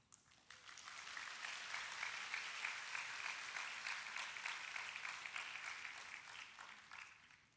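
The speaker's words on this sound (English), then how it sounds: "I think your parents deserve a round of applause." A graduation ceremony crowd claps steadily for several seconds, rising quickly and fading out at the end, heard from a moderate distance.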